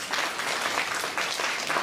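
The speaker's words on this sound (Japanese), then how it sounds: "みんなエールの拍手だ" Steady audience applause fills the space at a Tokyo DisneySea show, a dense wash of many hands clapping at even loudness throughout.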